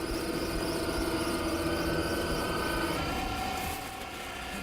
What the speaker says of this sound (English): The hopper breaks it up, blows it into the hose, and sends it out up into the attic.